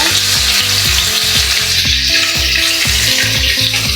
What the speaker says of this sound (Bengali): গরম তেলে রসুন দিয়ে দিব